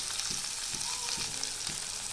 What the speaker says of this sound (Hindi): अब हम इसमें कटी हुई प्याज डालेंगे